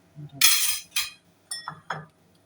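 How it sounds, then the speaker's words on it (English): A spoon clinks against a pot while butter is stirred into cooked sticky rice, giving a handful of sharp, close metallic taps and scrapes over about two seconds with no talk. "Stir in a little bit of butter at the last minute, just to enrich it."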